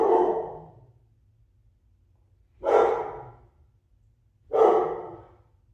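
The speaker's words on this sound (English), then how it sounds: "Excuse my dog." A dog barks three times indoors, each bark a single loud burst with a trailing breathy tail, spaced a couple of seconds apart in an otherwise quiet room.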